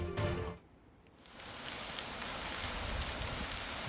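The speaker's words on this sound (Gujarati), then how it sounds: "તો તાપીમાં અત્યારે વરસાદી માહોલ જામી ગયો છે।" Monsoon rain falls in Tapi, Gujarat as a steady, even hiss of drops that swells in after a brief quieter moment and then holds at a constant level.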